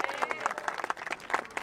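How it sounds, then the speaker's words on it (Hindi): A crowd applauds for the Hauz Khas police at a gathering near Jamia. The scattered, fairly faint clapping lasts only a moment and is uneven in rhythm. "इनके लिए ताली बजा दीजिए"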